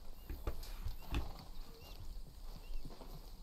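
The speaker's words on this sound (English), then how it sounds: "Look at this horse just going through here" In the video game Red Dead Redemption 2, a horse walks past at camp, its hooves giving soft, uneven clip-clops nearby over quiet outdoor ambience.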